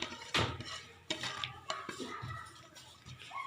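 Chopped tomato, green chilli and cubed onion tipped into a bowl and mixed, with a loud clatter of utensil against dish at the start followed by a few scraping, clinking stirs close by, no talking.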